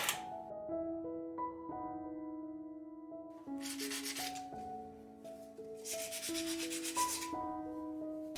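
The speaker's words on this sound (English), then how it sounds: "I had to sand down a few places" An old wooden armoire being sanded by hand in two long bursts of raspy scraping, each lasting a couple of seconds, over a steady backdrop of gentle piano-like music.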